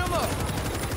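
Rapid machine gun fire in the video game World War Z, a quick burst of repeated shots lasting about a second, with a voice briefly audible in the mix.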